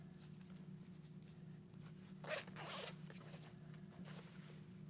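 A zipper on an RST V4.1 Evo Kangaroo airbag one-piece leather race suit is pulled in a quick, faint rasping run, set against a low steady hum in a quiet room.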